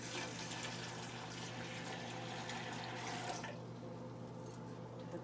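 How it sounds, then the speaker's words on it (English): Water poured into a pot of beans boiling at high altitude, a steady continuous rush and splash that runs for several seconds, then thins to a quieter trickle near the end; no talking. "So I've added some more water."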